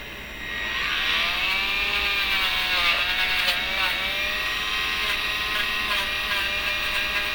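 Small power tool running at low speed to strip rust from the metal brackets of a Kirby vacuum, a steady, close electric whine whose pitch wavers and dips slightly as it works the surface throughout.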